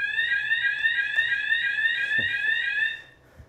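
A warning alarm sounds inside a telescope observatory as the dome prepares to open, a loud steady electronic pulsing beep repeating for about three seconds before cutting off, with a faint thump near the end.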